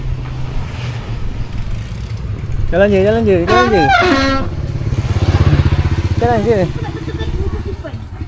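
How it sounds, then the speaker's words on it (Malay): A motorcycle passes behind on a road, its engine hum swelling and then fading over several seconds. Nearby voices, including a child's, call out on top of the engine sound. "Belakang ada motor."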